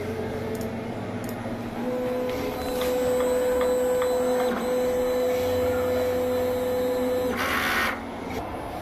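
A DTF printer runs its print head cleaning cycle, a steady mechanical whir and pump drone with a sustained tonal whine that starts and stops, ending in a brief hiss, loud and close.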